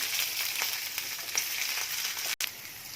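Green chillies, urad dal and cumin sizzling in hot oil, a steady close crackling hiss with no voices, briefly cut off once near the end.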